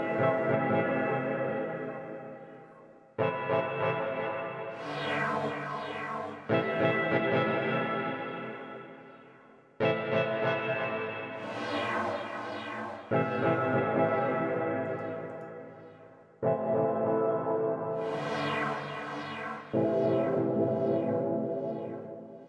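Synth instruments play dreamy, spacious chords together in a dubby hardgroove techno arrangement, with swelling stabs repeating about every three seconds and long echoing tails, loud and alone.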